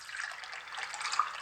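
Orange juice pours steadily into a container, a faint continuous trickling stream heard alone for a moment.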